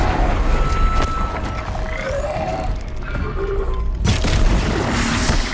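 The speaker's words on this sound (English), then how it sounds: "Explosion!" A deep, heavy boom rolls out over a dense soundscape in Horizon Zero Dawn: The Frozen Wilds, followed by a second sharp crash-like burst near the end.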